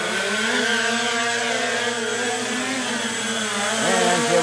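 A Scout X4 quadcopter drone spins up and lifts off, its rotors giving a steady layered whine with a sharp pitch rise near the end as it climbs, no talk heard.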